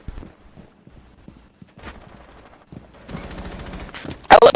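Automatic gunfire in the video game Rainbow Six Siege: short scattered shots and bursts at first, building into a dense, loud rapid-fire stream toward the end.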